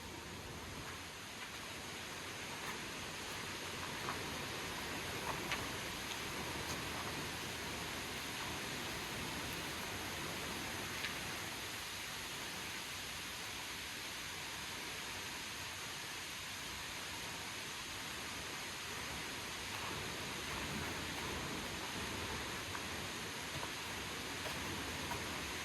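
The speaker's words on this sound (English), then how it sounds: "Waterfalls. That's low falls" Low falls in a river gorge pour continuously, a steady hiss-like rush of falling water that stays even and fairly close with no pauses or voices.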